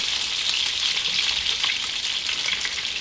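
Onions frying in a pan as part of making Italian meatballs, a loud, continuous bright sizzle that holds steady throughout, close up and with no talk.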